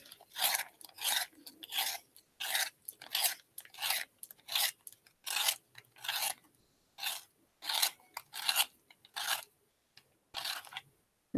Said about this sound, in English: Using my Toggle sharpener again.